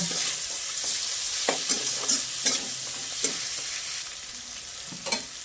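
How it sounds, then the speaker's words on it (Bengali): Chopped ginger dropped into hot oil and stirred in a pan, a continuous close sizzle broken by several spaced spatula scrapes and taps, with no one talking. "সাথে দিয়ে দিলাম এই আদা কুচিটা।"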